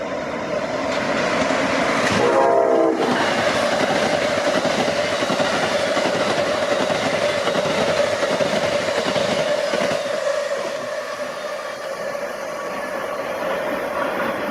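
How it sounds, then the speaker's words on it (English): Amtrak 195, a southbound passenger train for Richmond, races through a northern New Jersey station at high speed, a loud sustained roar with rhythmic clickety-clack of wheels and a brief horn-like tone early, fading slightly toward the end. "At 11:41, Amtrak 195 to Richmond comes flying through after departing Metro Park Station."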